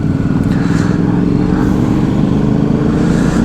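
A BMW G310GS motorcycle cruises along the Bangalore–Hyderabad highway, its engine droning steadily and loudly up close, mixed with rushing wind noise throughout, with no talking.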